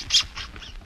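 A gull sound effect from a radio drama: a few short, shrill screams, loud at first and then fading, over a faint background.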